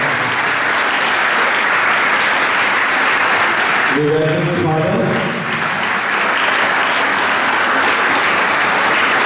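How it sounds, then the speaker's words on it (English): Steady applause from an audience greeting a judge at a school debate, loud and continuous, with a voice briefly speaking over the clapping partway through. "So let's welcome him with a big round of applause."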